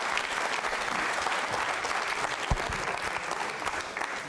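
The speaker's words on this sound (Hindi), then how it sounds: "तालियां जोरों से बजाइए सुविधा जी के लिए।" Steady applause from a quiz show audience at a Jain Social Group regional event, dense and continuous from start to finish with a few louder individual claps standing out.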